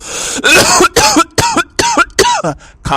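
A person coughs repeatedly in a harsh, loud run of about six close bursts with short gaps, in an Awadhi comedy sketch.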